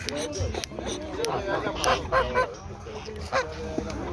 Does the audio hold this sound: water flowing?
no